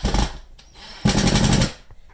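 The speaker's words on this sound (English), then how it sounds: "screwing in brackets" A power drill drives screws into brackets while a chicken coop is being built, in two loud, short bursts separated by a brief pause.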